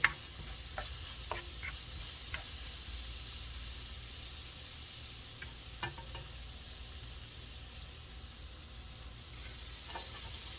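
Garlic fries in a pan with a steady, close sizzling hiss that continues throughout, broken by occasional faint clicks and taps of a utensil.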